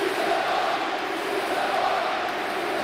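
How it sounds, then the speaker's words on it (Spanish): Steady crowd applause and stadium murmur fill a PES 6 football video game match, a continuous dense wash of clapping with no break. "Bajan los aplausos."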